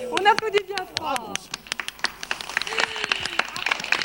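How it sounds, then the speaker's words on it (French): Studio audience at a French television variety show claps after a performer sits on a bed of nails. A voice talks first, then scattered, fairly close claps follow in an uneven patter. "On applaudit bien fort."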